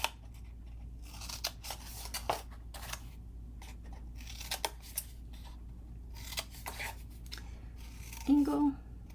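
Scissors cut paper for an 8x8 birthday folio, giving close, quiet repeated snips and crisp paper rustles in an uneven rhythm, with a brief voice near the end.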